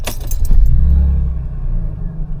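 A Mercedes SL car engine starts up with a short cranking burst, then settles into a steady low rumble close by, with a faint jangle of keys at the outset.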